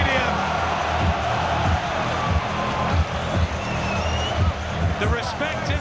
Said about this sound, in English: listen to the crowd loving this heavyweight spectacle here at Wembley Stadium